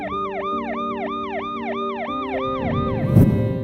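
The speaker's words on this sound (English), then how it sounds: "in Paris, hundreds of protesters stepped aside to let an ambulance through" An ambulance siren wails in a rising and falling two-tone cycle, loud and close, as it moves through crowds of protesters on a Paris street, with a brief burst of street noise near the end.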